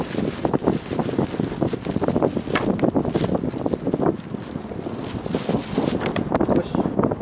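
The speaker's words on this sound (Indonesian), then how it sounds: "anginnya kencang." Strong wind buffeting a beach hut by the sea, a constant loud rush and microphone roar with occasional gusts, while people talk faintly underneath.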